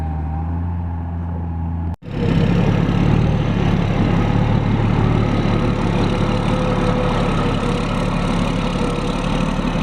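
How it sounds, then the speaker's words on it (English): A road grader's diesel engine running with a new muffler rumbles loudly and steadily up close after a brief cut, a constant low throbbing drone with no speech. "Matthew, look at that new muffler we put on there"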